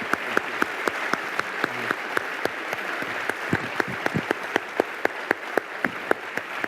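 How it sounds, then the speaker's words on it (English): Applause from a conference audience for a panel of speakers at an engineering summit, with distinct claps rising out of a steady wash of clapping all the way through. "please, a big round of applause for Deanne Bell, Dean Kamen, and Senator Tim Kaine"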